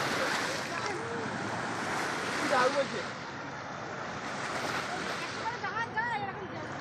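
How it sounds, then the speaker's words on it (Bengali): Gentle river waves lap and wash continuously beside a fort during rain, with a soft, faint rushing sound and breezy noise under a person talking. "নদীতে হালকা হালকা ঢেউ হচ্ছে"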